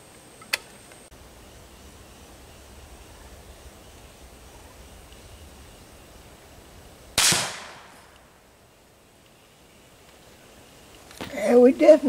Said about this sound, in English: going to go ahead and shoot that box full of water and see what happens